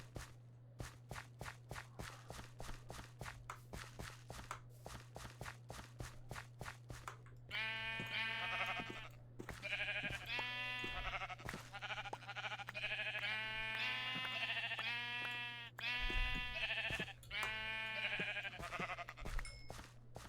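Sheep in a space-themed video game bleat over and over in a rhythmic series of wavering calls, preceded by a run of quick, regular footsteps, all quiet over a steady low hum, with no talking.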